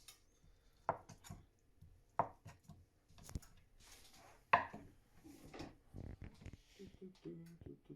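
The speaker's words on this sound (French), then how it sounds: "moi, je coupe des petits cubes" A knife chops food into small cubes on a cutting board, giving a few sharp, separated knocks amid quieter cutting and kitchen handling, with people talking throughout.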